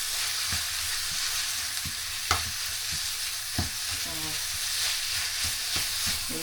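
Garlic and onion sautéing in a hot pan for vegetable spring rolls, a constant bright sizzle broken by several sharp scrapes and knocks of a utensil stirring, close and without talk.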